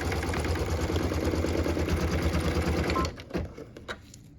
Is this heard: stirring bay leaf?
no